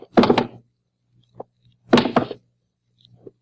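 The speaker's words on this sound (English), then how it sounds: "take off the shoes and drop them one by one on the floor" Shoes dropped one at a time onto a floor in a quiet house, a radio drama sound effect: two heavy close thuds about two seconds apart, with a few faint knocks between and after.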